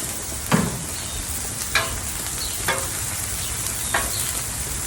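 Onions sizzle steadily on a hot Blackstone griddle, a constant close hiss broken by four sharp spatula scrapes and taps spaced about a second apart, with no talking.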